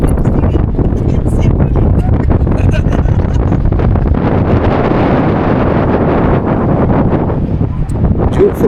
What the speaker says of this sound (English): Beautiful day, but it's really windy and cold.